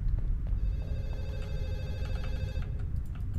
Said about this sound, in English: Wait, phone ringing.